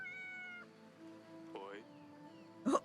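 A cat in the video game Yes, Your Grace meows when petted: a soft, pitched meow near the end, loud and close, following a stretch of quiet background music.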